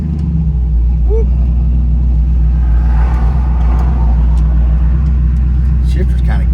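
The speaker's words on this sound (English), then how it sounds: "We're fixing to find out if it'll do a burnout." A 1968 Pontiac Firebird convertible's V8 rumbles loudly and continuously up close, swelling briefly as it is revved for a burnout attempt, with a voice heard briefly over the engine.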